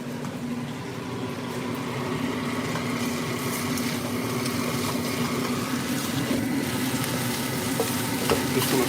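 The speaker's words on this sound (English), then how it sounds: "Just gonna stir fry this for about 5 minutes." Blackened chicken sizzles and crackles in a hot pan while being stir-fried, with scraping stirs and a steady frying hiss close by that grows slightly louder over several seconds.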